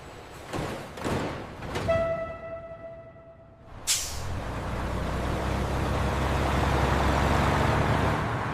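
A truck at a cold-storage loading dock releases a sharp hiss of air brakes, followed by a steady low engine rumble and idle; a few brief knocks and a tonal whine come before it.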